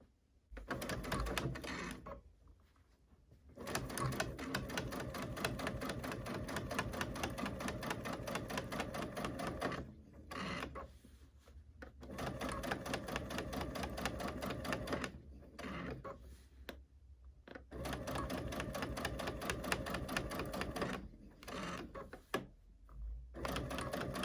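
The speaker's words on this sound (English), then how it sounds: "that's where I'm going to watch as I start quilting" A sewing machine runs in long, steady stitching stretches while quilting channel rows, pausing briefly between passes; moderately quiet and close, with no talking.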